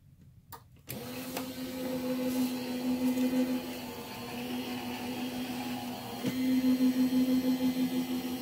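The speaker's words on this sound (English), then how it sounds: "run it through my die cutting machine" An electric die cutting machine runs a thick paper-crafting piece through its rollers, starting with a click and then a steady close motor hum that lasts throughout, with no talking.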